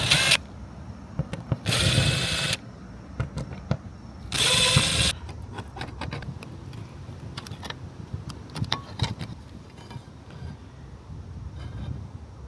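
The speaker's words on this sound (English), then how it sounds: "I'm going to use this as my template to put holes for the screws" Power drill boring screw holes in an RV roof, with three short whirring bursts separated by pauses and followed by lighter clicks and handling noises.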